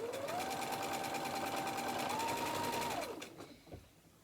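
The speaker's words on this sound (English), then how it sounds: "I'm going to continue to sew these blocks" A used sewing machine runs steadily while stitching quilt blocks, its motor whirring at an even pitch that rises slightly near the end before winding down and stopping, with faint handling clicks afterward.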